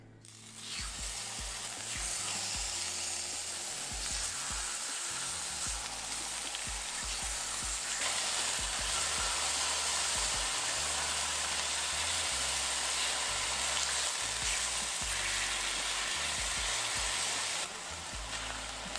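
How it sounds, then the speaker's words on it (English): Marinated beef sears in a hot pan with a steady, loud sizzle and frying crackle that holds evenly for nearly twenty seconds with no talking. "we're gonna place it on our hot pan and we're gonna sear it on each side for 1 minute"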